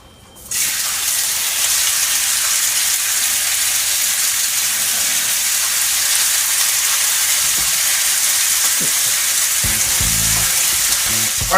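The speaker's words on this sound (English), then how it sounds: "We're going to throw some bacon in here just so the bacon doesn't stick." Bacon hits a hot pan lined with olive oil and bursts into a loud, dense, continuous sizzle that holds steady and close. A few soft knocks come near the end.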